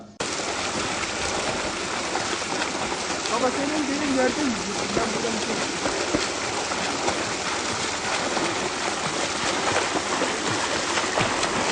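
The ice-cold Bulanık Deresi, a mountain stream where picnickers swim, rushes with a dense, constant roar of flowing water, while people talk faintly beneath it.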